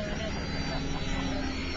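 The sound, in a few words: foam RC airplanes flying in combat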